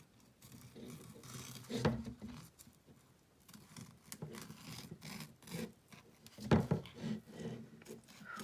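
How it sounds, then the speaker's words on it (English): Quiet, close snips of dull scissors cutting fabric lining and rustling fabric, with a few irregular cuts and soft rubbing sounds between them. "Especially here, I wanna cut my lining."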